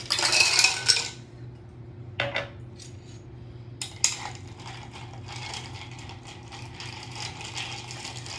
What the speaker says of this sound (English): From there, we will add ice and we'll stir the cocktail.